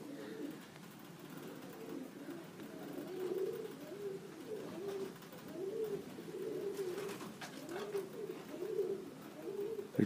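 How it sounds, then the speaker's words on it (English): Birmingham Roller pigeons coo outdoors, soft repeated throaty calls in a loose rhythm at moderate distance over steady background noise, with no talking. "That was a bird again, Yanni."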